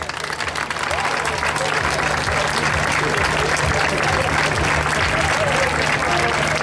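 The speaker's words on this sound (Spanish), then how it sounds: "Le damos ese fortísimo aplauso, por favor." An audience gives sustained, dense applause at a homage event for a sword dance, loud and continuous for the whole stretch.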